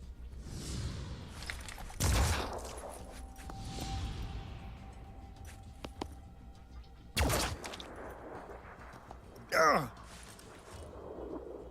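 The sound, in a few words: pistol gunshots in video game Phoenix Point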